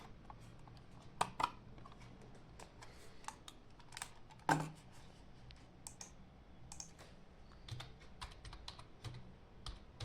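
Typing on a computer keyboard connected to a Raspberry Pi running Kali Linux, with irregular bursts of close, crisp key clicks and a few louder taps, no voices.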